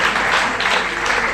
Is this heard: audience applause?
yes